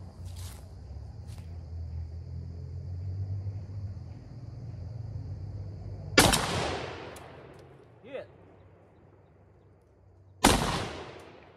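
Two loud, sharp rifle shots from a Browning BAR MKII chambered in .30-06 ring out at an outdoor range, spaced several seconds apart, over a low background rumble with faint clicks before the first shot.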